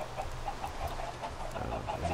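Video game chickens cluck softly in short, repeated bursts on a blocky farm beside a pumpkin pie factory build. The clucks are faint and scattered over a low ambient background.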